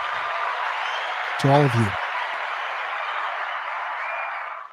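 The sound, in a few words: round of applause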